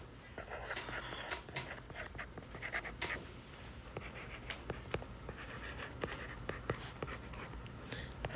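Pen writing by hand on paper for a geometry problem, a steady close scratching with small taps and strokes, fairly quiet throughout, no talking.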